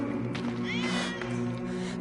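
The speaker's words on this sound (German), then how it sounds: "Verdammte Katze, komm hierher." A cat in a video game lets out a drawn-out meow over a steady droning musical background, moderately loud and alone.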